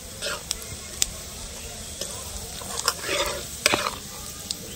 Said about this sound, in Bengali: ফোড়নগুলো সুন্দর করে একটু তেলে ভেজে নিয়েছি